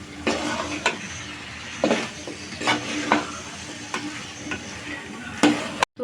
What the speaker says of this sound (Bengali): কচুর মুখিটাকে খুব ভালোভাবে মশলার সাথে মিক্স করে নেব আর কষিয়ে নেব